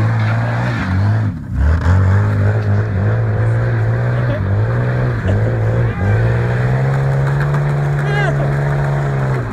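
A Ford Explorer engine holds a loud, steady high rev during a one-wheel-peel burnout, droning continuously with slight pitch shifts and a brief dip near the start, while people talk and laugh over it.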